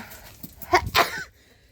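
A single short sneeze, close and fairly loud, followed by quiet.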